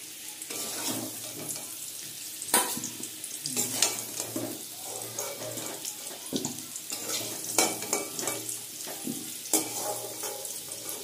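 Fish egg fritters fry in hot oil for a Bengali curry, an uneven sizzle broken by scraping stirs and a few louder clattering pan knocks, close by with no voices.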